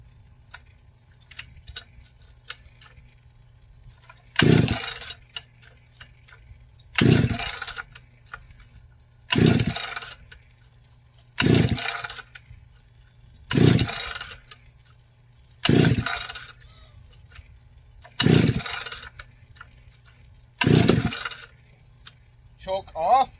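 Heavy ported Pioneer P51 chainsaw, choked and using the decompression valve, being pull-started: eight sharp rasping pull bursts at regular intervals of about two to three seconds, each loud and brief, with quiet gaps between.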